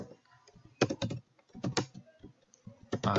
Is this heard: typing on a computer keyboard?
yes